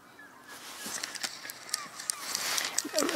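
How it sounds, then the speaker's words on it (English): Swan honking in flight over the shallow end of Cayuga Lake, with a few nasal calls at moderate distance over a steady outdoor background. "Just heard a swan."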